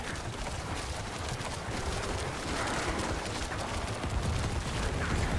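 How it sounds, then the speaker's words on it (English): Corpse explosion necromancer skill in a video game: a dense, crackling barrage of bursts and rumbling blasts that runs continuously and grows heavier toward the end, with no voices. "Oh my god. Corpse explosion?"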